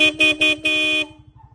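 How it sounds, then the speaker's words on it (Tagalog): A Seger 50F dual disc horn fitted to a Honda Click scooter honks close by: three short toots and then a held blast, with the scooter's idling engine pulsing softly underneath. "ang nakakabit po is Seger 50F dual disc horn"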